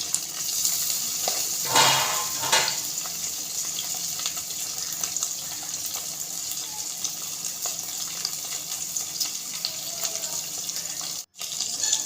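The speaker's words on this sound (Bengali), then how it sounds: "কিছু নুন হলুদ মাছিয়ে মাছটা ভেজে নিচ্ছি" Puti fish, salted and coated with turmeric, frying in hot oil in a home kitchen, a steady broadband sizzle running the whole time with a couple of brief louder spatters near the start and no talk.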